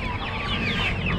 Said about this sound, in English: Chickens, chickens,